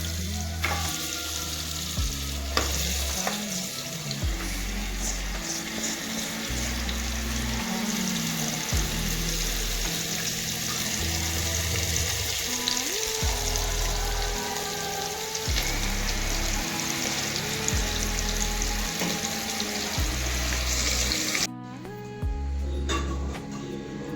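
Goat trotters frying in a little oil inside a pressure cooker, a steady close sizzle with intermittent stirring scrapes and low thumps running continuously.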